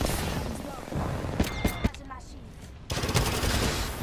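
Gunfire rattles in an Apex Legends match played as Bangalore: dense bursts of automatic fire, a brief lull with a few sharp single cracks, then another sustained burst, all loud and close.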